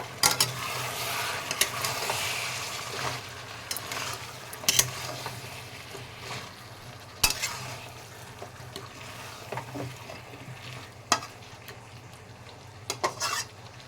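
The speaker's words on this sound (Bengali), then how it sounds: "লবণ দিয়ে নিয়েছি, আবারও নাড়িয়ে নেব" Chicken curry, salted, being stirred in a pan, with irregular clanks and scrapes of a utensil against metal over a low simmering sizzle, close and fairly quiet, and no one speaking.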